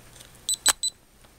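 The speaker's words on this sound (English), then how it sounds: "Why did it beep?" A 3D Hero camera rig gives three short, quiet electronic beeps in quick succession, with a small click between them, against a near-silent background.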